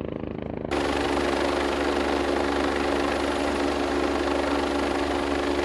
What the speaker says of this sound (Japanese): ヘリコプターでの救出が行われました。